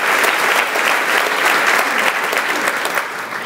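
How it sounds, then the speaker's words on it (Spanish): A crowd claps steadily, dense and loud, sustained throughout without pause. "denle un aplauso a Dios con todo su santo corazón."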